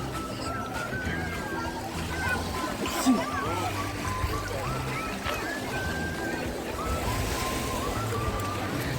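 Sea surf rolls onto Golden Shore beach in Odesa in a steady wash, kept up under crowd chatter and nearby voices throughout.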